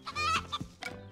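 Animated chickens cluck and squawk in a short, busy burst of several overlapping bird calls, close and moderately loud, with a soft thump in the middle.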